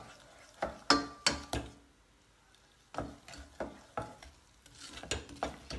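Caramel is stirred in a pan in short scraping strokes that come in quick clusters, with a pause between the groups and a faint background hiss under them.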